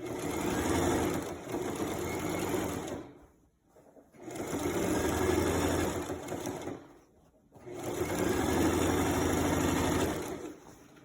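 A sewing machine stitches a dart in a skirt, three steady bursts of fast mechanical whirring separated by short pauses, close and clear.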